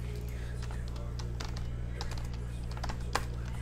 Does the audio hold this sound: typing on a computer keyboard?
yes